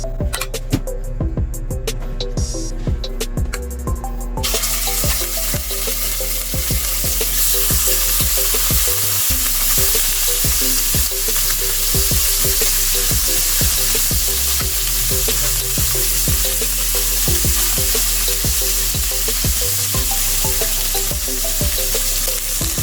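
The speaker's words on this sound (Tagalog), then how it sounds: "So pwede na natin ilagay yung ating minarinade na chicken." Marinated chicken wings sizzle and fry steadily in hot cooking oil, a continuous loud crackle with occasional stirring or pan clatter, heard alone throughout.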